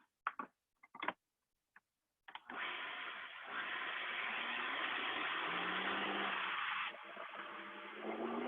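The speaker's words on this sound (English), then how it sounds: "I'm going to add these seeds to my blender, and I'm just going to blitz them until they're a powder" A kitchen blender blitzing flax seeds into powder, starting after a few short clicks and then running as a loud, steady whirring drone for about six seconds before its pitch drops.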